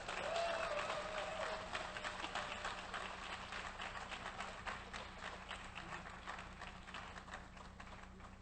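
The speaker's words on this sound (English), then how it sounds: "Clap for Frank Leon Roberts." An audience at a lecture event on Black resistance after Stonewall applauds as the speaker is introduced. The clapping is dense and sustained, loudest at first, then slowly fading, with a faint whoop early on and a low steady hum underneath.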